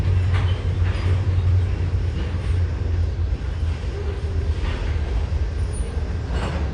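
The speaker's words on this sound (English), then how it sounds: "Probably only about 13 cars or so on this train." A freight train of about thirteen cars rumbles across a high trestle above a city in Kenova, giving a steady, loud low-pitched roar with faint rattling and squeal, and no voices.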